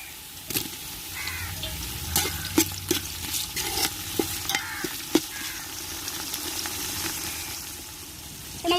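Chopped onions and tomatoes sizzle and fry in a pan for mutton biryani, with a steady frying hiss broken by repeated scraping, clinking stir strokes close up; no voices.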